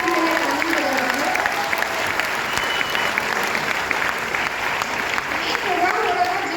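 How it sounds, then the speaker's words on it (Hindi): Sustained applause from a seminar audience fills the room, steady dense clapping continuing throughout with a faint murmur of crowd voices underneath. "मैं चाहूँगी एक बार दिल से मेरे ताली बजाइए"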